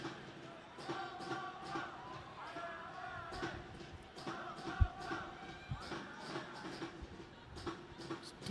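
Stadium crowd at a women's AFC football match between Ho Chi Minh City and Abu Dhabi Country Club, a steady distant murmur with scattered shouts and thuds beneath a commentator's voice.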